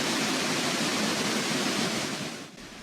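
Distant Reichenbach Falls waterfall in the Swiss Alps, a steady broadband roar of rushing water that stays continuous and fairly loud, dipping slightly near the end, with no voices.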